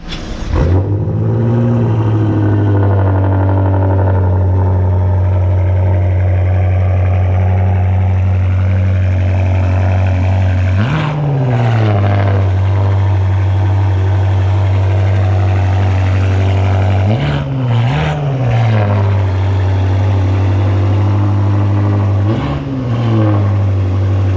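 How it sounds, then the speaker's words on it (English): A BMW M two-door grand touring car's engine runs loud and close, holding a steady idle with several sharp revs blipping up and settling back down. "let's actually start it for you and let you listen to how loud this two-door Grand Touring car is"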